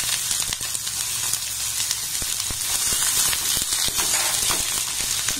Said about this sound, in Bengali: এবার পেঁয়াজটাকে আমি ভেজে নেব।